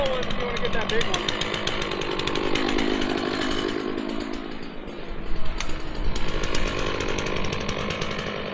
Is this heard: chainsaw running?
yes